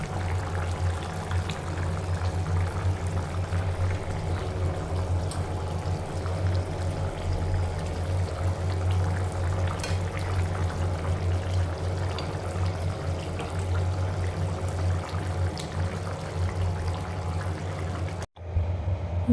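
Water poured steadily into a pan of fried fish to make a fish curry, a continuous close pour that runs nearly twenty seconds before cutting off abruptly.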